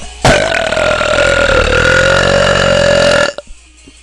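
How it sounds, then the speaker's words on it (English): A loud, long human belch lasting about three seconds, deep and steady with a rough tonal rumble, heard alone and close before cutting off abruptly. "Now let's see you girls try and beat that belch."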